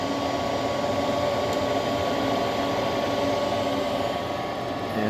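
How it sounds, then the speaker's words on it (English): A furnace inducer motor runs with a continuous, even whirring hum and a faint high-pitched whine, steady throughout and fairly close. "the inducer motor kicks in"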